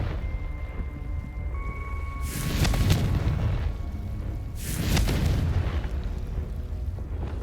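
A Confringo blast spell explodes twice in the Hogwarts Legacy video game, each time a heavy booming burst with rumbling low end that fades over about a second, over a quiet game ambience.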